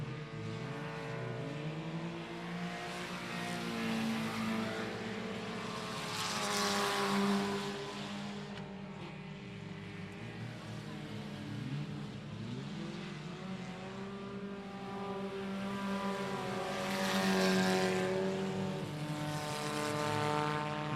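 Several USRA Tuners race cars roar around a dirt speedway track during a heat race, engines droning steadily with rising and falling passes as cars sweep by, loud and continuous without any talk.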